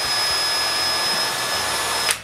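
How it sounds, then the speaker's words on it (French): Steady whine of a power drill boring screw holes into a wooden home-theater stand, running continuously and close up, then cutting off at the end with no talking. "Je perce des trous pour les vis"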